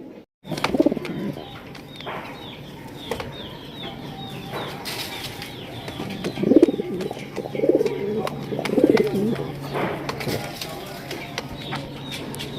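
Lahori pigeons cooing close by in soft, throaty bursts, with wing flutters and scattered bird calls over a steady background, while someone speaks intermittently.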